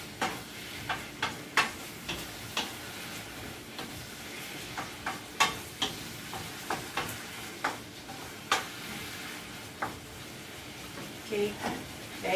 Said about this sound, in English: If you like it a bit softer, which I usually like, I'll just let it be in the sauce for a while more and stir fry a bit more